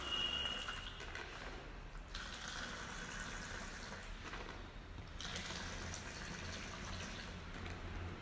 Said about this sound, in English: Take this plastic tumbler, fill it with distilled water